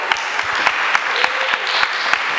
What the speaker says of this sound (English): Everybody, round of applause for Carrie